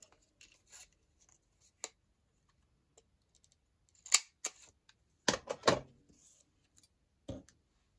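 Scissors snip paper for a craft flip-out pocket, giving sparse, close, sharp clicks followed by a quick burst of several cutting snips in near-silence.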